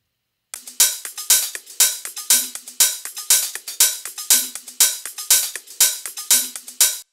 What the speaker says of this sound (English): And then here I have the percussion section.